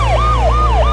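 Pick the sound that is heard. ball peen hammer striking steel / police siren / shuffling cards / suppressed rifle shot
police siren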